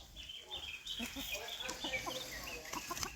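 Wild chickens cluck and call repeatedly in an outdoor yard in Jamaica, with short squawks and chatter scattered across the moment and some faint background noise.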